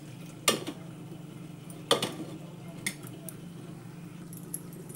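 A metal pot lid is lifted off simmering matar paneer curry, giving a couple of sharp close clanks and a lighter clink against a quiet kitchen background.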